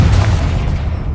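Confringo spell explosions in the video game Hogwarts Legacy, a continuous low rumbling boom that stays loud throughout, with no talking.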